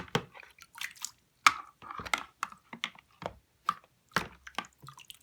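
A toy shark being washed in water: small close splashes and drips come in short, irregular bursts with brief pauses between them.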